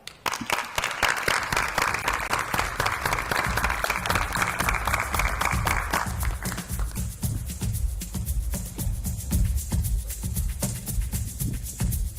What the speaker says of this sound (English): A round of applause for Ms. Samantha Clingham.